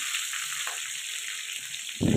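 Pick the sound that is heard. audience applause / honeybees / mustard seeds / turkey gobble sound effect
mustard seeds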